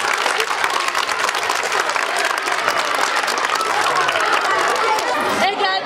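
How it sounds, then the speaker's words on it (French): A crowd at a school donation event in Cameroon claps loudly and continuously, dense applause mixed with cheering and chatter, and voices talk over it near the end. "Bon, on applaudit encore pour monsieur."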